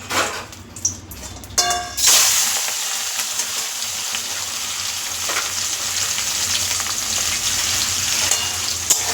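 A few clanks and scrapes, then a loud burst of sizzling as catla fish fat hits hot oil, settling into a steady close frying crackle.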